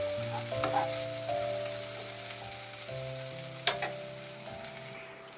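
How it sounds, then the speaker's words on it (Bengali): Chopped onions sautéing in a pan for a Bengali fish curry, a steady close sizzle with some light tonal sound running through it. "পেঁয়াজটা ভাজা ভাজা হয়ে গেছে।"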